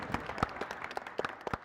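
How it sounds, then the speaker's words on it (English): An audience at Atrisco Heritage claps for the venue during a Bernalillo County Fire Department dodgeball tournament. The applause is brief and scattered, with loose individual claps at moderate loudness in a large room. "Round of applause for Atrisco Heritage for making this happen."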